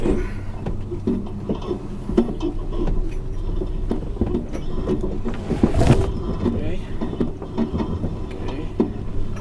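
A Toyota FJ Cruiser fitted with Dobinsons suspension growls at low engine rumble while picking its way down a steep off-road descent, with a brief louder clunk midway and a voice talking over the drive.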